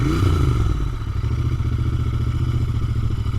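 A Royal Enfield Interceptor 650 Mk 2 motorcycle engine idling close by, a steady low throbbing rumble with an even, rapid pulse and no voices.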